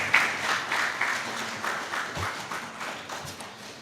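Audience applause at a leadership forum in Ghana, a soft, steady crowd clapping heard from a distance, gradually fading over several seconds with no talk over it.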